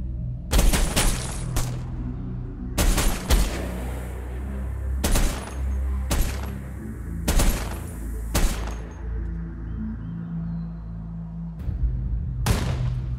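A grenade blast and bursts of rifle and machine-gun fire ring out in the PC war game Ratten Reich, several sharp loud volleys spaced over a rumbling battlefield background.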